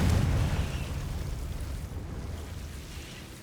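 A Confringo fire spell explodes in the Hogwarts Legacy video game, a loud booming burst at the start that trails off into a rumbling, fading roar.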